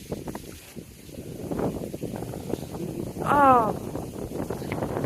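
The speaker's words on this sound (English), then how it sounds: "it's a bit windy" Wind blows outdoors on a nature walk, a soft, uneven rush buffeting the microphone, swelling louder near the middle, with a brief spoken exclamation early on.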